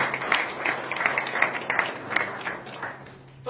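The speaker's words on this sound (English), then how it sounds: "Let's give a big round of applause." An audience at an IBM corporate speech event breaks into steady applause, a dense patter of many hands clapping at close range that tapers off toward the end.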